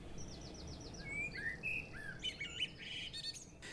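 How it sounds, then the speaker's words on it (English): Shelducks on a Northumberland coast estuary give short chirping calls, a quick series of repeated notes followed by scattered sharper calls, faint and slightly distant over a low background hiss, with no voices. "one of the most common birds you're going to see, and it's a duck species, and it's the shelduck"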